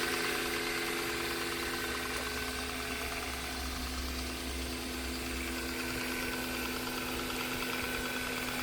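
A Tesla Model 3 electric drive motor spins its shaft on a test bench with no cooling running, giving a steady, continuous mechanical hum and whine with a low rumble that holds constant throughout, close and alone with no talk.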